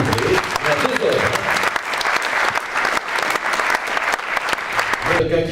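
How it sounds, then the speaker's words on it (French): An audience at an awards ceremony applauds the first gold medal winner with loud, thick, continuous clapping that fills the room from start to finish, with a faint voice at the very end. "Première médaille d'or sous un tonnerre d'applaudissements, s'il vous plaît"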